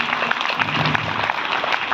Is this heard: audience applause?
yes